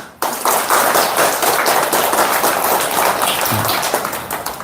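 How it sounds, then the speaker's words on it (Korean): Loud audience clapping at a Buddhist temple gathering, a sudden burst of dense, sustained applause from many hands close by that holds steady and tapers slightly near the end. "스스로 박수 한번 치세요."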